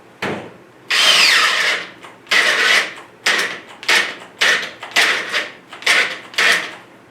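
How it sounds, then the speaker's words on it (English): A DeWalt cordless drill whirs in repeated bursts at high speed, with one long run followed by a series of shorter pulses, loud and close. "this is a head-to-head competition with these two drills"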